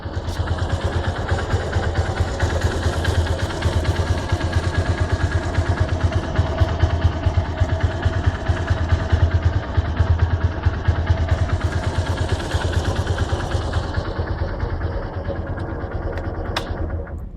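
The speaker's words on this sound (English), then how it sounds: "I'd like to give you an insight of the engine noise." A 2012 Hero Honda Hunk motorcycle engine idles steadily and loudly close by, a continuous deep throbbing rumble with no talking.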